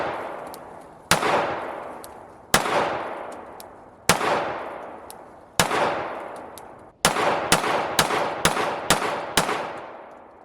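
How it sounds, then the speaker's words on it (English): 9mm pistol shots from a Rock Island Armory RIA 5.0E, loud sharp reports each trailing a long outdoor echo, first four spaced singly, then a quicker string of about seven rounds. "Arms Corps did send a couple of boxes of 9mm, and we want to shoot it as well"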